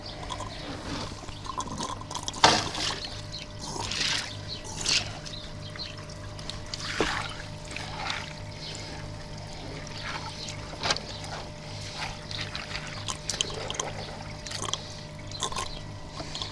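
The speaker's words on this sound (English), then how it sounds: "The water's always travelling around in here" Water circulates through a UK koi pond filter with a steady trickling and dripping flow, interrupted by occasional louder splashes and drips, close and fairly clear with no talking.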